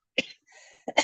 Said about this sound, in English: I have a little cough.